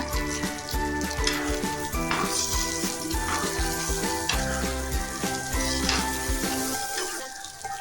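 Peanuts frying in a pan for chutney give a continuous dense sizzle and crackle, heard close under steady background music with no voices.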